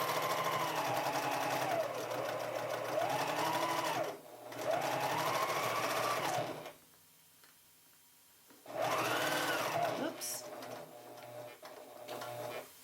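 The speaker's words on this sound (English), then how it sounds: "I'm just going to line up and sew straight down this side." Sewing machine stitching down a quilt binding, running in long steady whirring bursts with a short stop midway and a longer pause near the end before it starts again, close and clear without speech.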